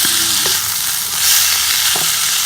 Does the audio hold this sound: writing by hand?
no